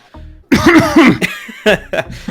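Two sharp, close coughs into a microphone, followed by a brief throat-clearing sound and a couple of quick breathy bursts.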